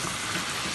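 Beef curry frying in oil in a pot, a steady, close hiss of sizzling that stays even and unbroken throughout.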